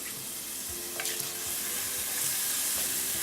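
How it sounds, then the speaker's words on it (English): Bacon frying in butter in a pan gives a steady, close hiss of sizzling that runs the whole time, with a few brief clinks and scrapes of the pan over it and no talking. "I'm going to fry the bacon until it's crispy"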